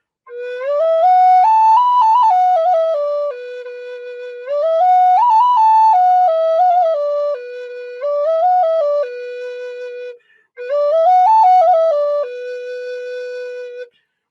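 A Native American flute plays an original pentatonic scale in four breathy phrases, rising and falling through sustained pure notes with short pauses between them, loud and close with no voices.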